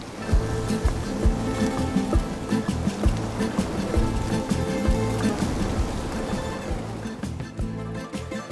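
Sea waves wash onto the beach at Platamonas, Greece, a steady, fairly loud surf roar with rolling swells and a little wind, and no voices.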